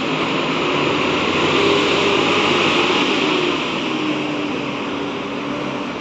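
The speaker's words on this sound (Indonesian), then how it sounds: "Auman suara mesin yang begitu menggelegar bosku." An ALS intercity executive bus pulls out of the BRPS terminal in Pekanbaru, its engine giving a loud, continuous roar that holds steady and close throughout with no talk over it.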